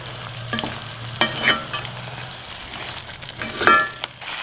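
Spiced chicken mixture being stirred and fried in a pan, steady low sizzle with a few scraping spoon strokes, close and moderately loud with no talk.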